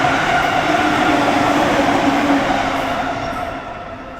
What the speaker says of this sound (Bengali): দেখো ট্রেনটা যাচ্ছে, এটা আমাদের স্টেশনের ট্রেন।